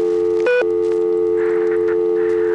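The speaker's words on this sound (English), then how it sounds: "this is my dial tone" A steady, loud telephone dial tone on the New York phone network hums on continuously, broken by one brief interruption near the start, with faint background noise over it.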